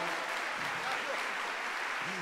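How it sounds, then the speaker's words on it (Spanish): Applause from an audience at a tax update seminar for a prize winner: a steady wash of many hands clapping, moderately loud and continuous throughout, with faint voices mixed underneath. "un aplauso para el señor Libardo, por favor"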